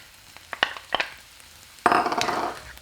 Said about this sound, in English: we have to constantly keep stirring this so it doesn't stick